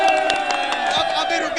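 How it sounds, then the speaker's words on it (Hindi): A crowd cheers and shouts with some scattered clapping in a short, lively burst of raised voices and whoops. "ताली होनी चाहिए एक बार"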